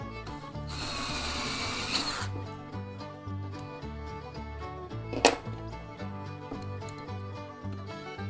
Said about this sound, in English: I'm gonna go ahead and pre-drill these other holes